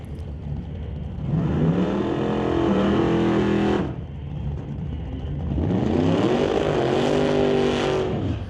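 A drag race car with a 434 small block Chevy engine roars in two long, loud pulls, the engine note climbing steadily before a short dip between them.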